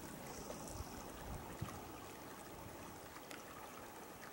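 A creek runs over stones at a crossing beside a big tree, a steady broadband wash of rushing, trickling water that holds fairly constant throughout, with a few faint knocks and no talk.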